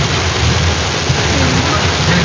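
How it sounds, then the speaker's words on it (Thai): Heavy rain pours down during a storm on a road while driving, in a loud, unbroken roar, close and steady, with no gaps. "ฝนตกตั้งแต่ออกมาพอแล้ว"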